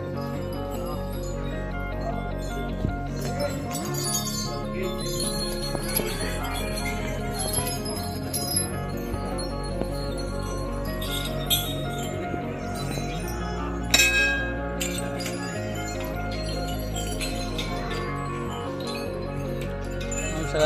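Many temple bells ring at Navshya Ganpati temple in Nashik, a dense, continuous metallic clanging and chiming from several bells at once, loud and sustained throughout, with a crowd murmuring underneath.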